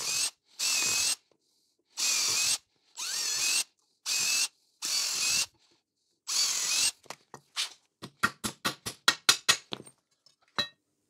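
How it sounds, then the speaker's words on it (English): A power drill whirs in six short, loud bursts with pauses between during a Panhard rod bush replacement on a Nissan GQ Patrol, followed by a quick run of sharp ratcheting clicks. "So just remember when drilling it,"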